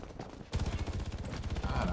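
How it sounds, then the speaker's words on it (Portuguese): Sniper rifle gunfire during a 4v4 PvP match in the survival shooter Undawn, a quieter lead-in giving way at the half-second mark to a loud, dense run of rapid shots and impacts that continues to the end. "Geral acertando o tiro de sniper, pô."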